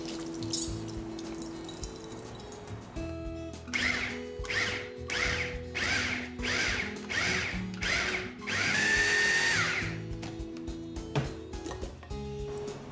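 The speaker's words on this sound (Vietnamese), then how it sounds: "Đây mọi người cứ xay cái hỗn hợp này nó như thế này là được ha" An electric grinder whirs in several short, loud bursts as it blends a minced filling of wood ear and shiitake mushrooms, with brief pauses and rattling between pulses.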